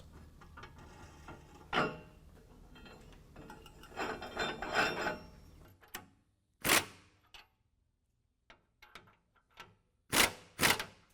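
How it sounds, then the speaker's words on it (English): Metal U-bolts going onto a Pro Comp 6-inch lift kit's rear suspension, with scattered clanks, ratcheting clicks and sharp metallic knocks in separate bursts, some quiet pauses between them and a brief word spoken. "now we're going to go ahead and install all the new U-bolts"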